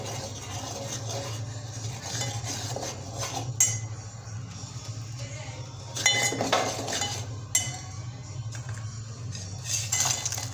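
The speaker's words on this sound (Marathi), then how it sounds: "मसाले सर्व टाकून घेऊ, एकदा मिक्स करून घेऊ।" A metal spoon stirs red chilli powder, turmeric and other spices into food in a pan, giving scattered scraping clinks over a steady low hum, with no voices.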